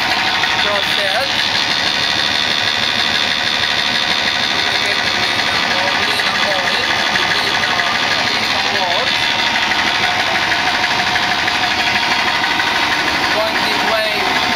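A large industrial reciprocating compressor runs at the Pluto LNG plant in Karratha, Australia, a loud continuous mechanical drone with rapid rhythmic knocking, while people talk over it.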